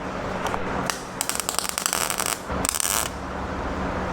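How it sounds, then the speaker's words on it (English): Welding a patch panel onto a 1962 Chevrolet C10 pickup, heard as crackling, spitting bursts of arc welding in short runs with gaps between them, close and fairly quiet, no talk. "Get ready to weld this thing on here."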